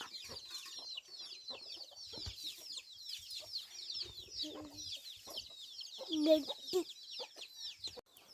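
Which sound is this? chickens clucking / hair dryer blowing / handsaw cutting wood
chickens clucking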